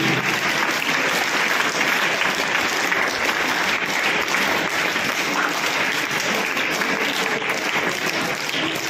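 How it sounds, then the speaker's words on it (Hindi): An audience at a school results ceremony applauds students' exam scores with sustained, dense clapping that carries evenly and loudly throughout without letting up. "जोरदार तालियां इनके लिए।"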